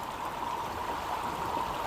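Creek water runs through a bazooka gold sluice outdoors, the flow lifted by warm weather, making a steady, continuous rushing and gurgling wash at moderate volume with no talking.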